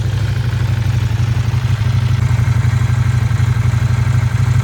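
A tall, large KTM motorcycle idles steadily, its engine giving a low, even, pulsing rumble that stays close and constant, with no voices over it.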